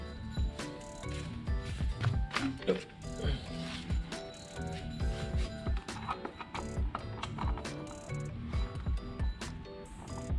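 Ratchet wrench tightening the bolts on the oil cover of a Honda Click160 scooter, with dense, steady clicking and clattering mechanical noise running throughout.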